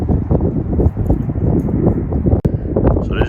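Gusty wind buffets the microphone outdoors beside a parked urban survival vehicle, a dense rumbling roar that stays loud throughout with brief lulls and a sharp dropout midway.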